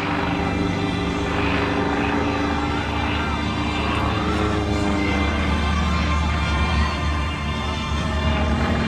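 A stunt plane with a 400-horsepower radial engine and propeller performs at an airshow, its engine drone loud and steady throughout.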